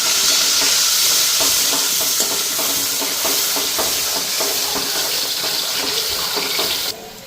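Fish fries with spices in a pan, giving off a loud, close, continuous hiss with rhythmic stirring scrapes that stops abruptly near the end.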